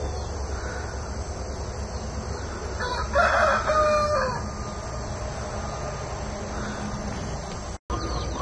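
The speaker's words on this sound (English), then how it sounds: "speckled Sussex rooster that I'm using for breeding" A speckled Sussex breeding rooster crows once in a backyard flock, a clear, fairly close call rising over steady outdoor background noise, with a fainter crow following later.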